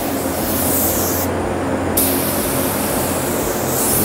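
Adhesion promoter sprayed from an aerosol can onto a raw plastic cover, a steady close hiss running almost unbroken for about four seconds with one short pause midway.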